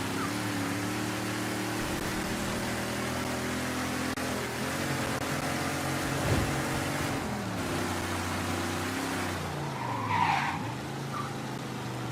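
Car tires skidding and squealing in the Mafia 3 video game, a sustained screech over a steady engine drone that runs the full twelve seconds, with brief louder swells near the middle and toward the end.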